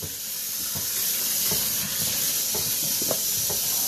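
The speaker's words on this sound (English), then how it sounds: "This is my orange water, so I can wash my hands." Water runs steadily from a sink tap while hands are washed in orange water, with soft splashes and rubbing over the continuous hiss of the stream.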